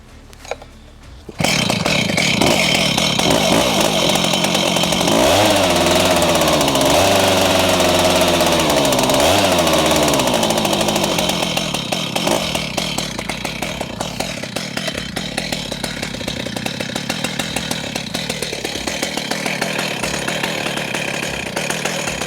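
A chainsaw mill on a Granberg 60-inch Alaskan MKIV starts up and runs loudly and steadily, its engine revving up and down a few times before settling into a rougher, slightly quieter idle.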